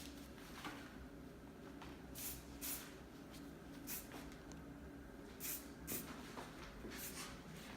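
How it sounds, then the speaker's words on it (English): Hairspray from a can lets out a series of soft, short hissing bursts onto styled hair, quiet and close with brief gaps between puffs. "What's good with this hairspray also is that it's workable."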